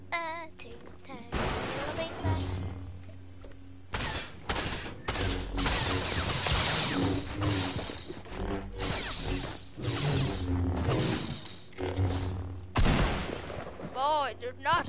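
Shotgun blasts from a video game fire in rapid, loud bursts, punctuated by crashes and whooshes, with a voice speaking and making playful noises between shots.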